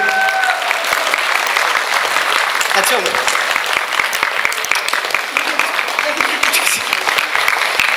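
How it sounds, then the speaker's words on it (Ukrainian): A stage audience in Truskavets applauds warmly, dense sustained clapping filling the hall throughout with a few louder claps standing out; a voice briefly speaks near the start. "Їй теж оплески"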